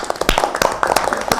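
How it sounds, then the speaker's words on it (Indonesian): Students in a classroom applaud a discussion group, giving a short run of scattered, uneven hand claps from a small group that sound fairly close and moderately loud. "tepuk tangan buat kelompok 3"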